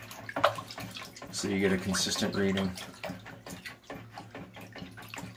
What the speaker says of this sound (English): Always stir your water after you put in your pH down.